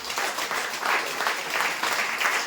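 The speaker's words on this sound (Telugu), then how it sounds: "పైనుంచి చప్పట్లు కొట్టండి" A church congregation clapping together in a lively, rhythmic burst of many hands, fairly loud and continuous, with no speech over it.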